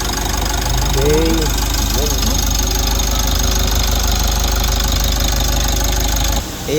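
A Mitsubishi L300 with a 4N14 Euro 4 diesel engine idles after turbo and EGR valve cleaning, a steady close diesel clatter with a low throbbing rumble, while someone talks briefly over it.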